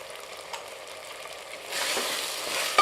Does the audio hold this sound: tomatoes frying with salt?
yes